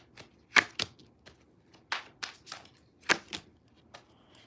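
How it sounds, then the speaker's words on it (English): Tarot cards being shuffled during a reading: a series of crisp riffling slaps and taps in uneven bursts, close and fairly loud, with no voice. "One more shuffle."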